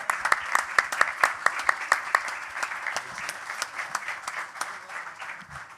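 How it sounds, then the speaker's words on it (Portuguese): An audience applauds at an in-store talk presenting a new album, steady clapping from a modest crowd that starts with sharp distinct claps and gradually thins and softens, close and continuous. "uma salva de palmas"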